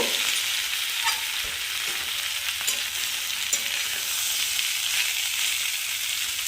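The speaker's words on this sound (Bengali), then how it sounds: "আবার এরপর দিয়ে দিলাম কুড়ে আদা, একটুখানি কষিয়ে নেব।" Grated ginger sautéing in a pan for spinach khichuri with peas and tomato: a steady bright sizzle with occasional soft scrapes of stirring, close and alone.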